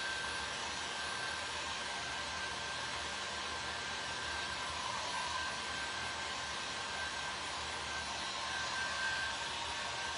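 A hair dryer blows steadily on a craft item at a crafting table, a loud, constant broadband whoosh with a faint high whine running unbroken through the whole stretch.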